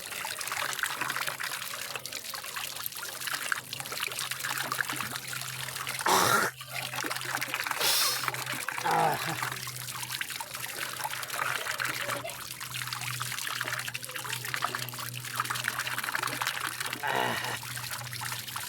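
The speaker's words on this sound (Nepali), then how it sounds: "के मजाको पानी छ यहाँ" Cold water pours and trickles steadily in a rural village setting, a continuous close flowing sound broken by a couple of brief sharp knocks.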